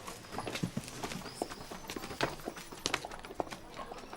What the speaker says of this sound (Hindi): वो देखो घोड़ा गाड़ी कितना सुंदर है।